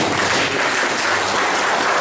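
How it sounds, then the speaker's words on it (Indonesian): Applause for Pak Mulyono at a school learning-community workshop, a dense, steady crowd clapping that stays loud and even for the whole two seconds without speech over it. "Tepuk tangan buat Pak Mulyono."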